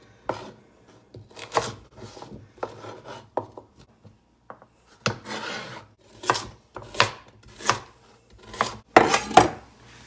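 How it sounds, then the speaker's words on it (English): A knife cutting carrots into smaller pieces on a board, giving irregular close chopping and scraping strokes, sparse at first and then quicker and louder in bursts near the end, with no voices. "I guess I could cut them a little smaller."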